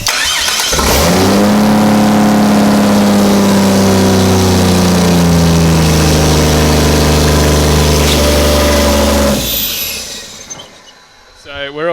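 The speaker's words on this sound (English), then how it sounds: "The first startup of the Barra was a great success. It runs really well" A Ford Barra engine in a Toyota Landcruiser 45/80 build cranks, catches and runs loud and close, its steady rough idle rising and falling slightly before cutting off near the end.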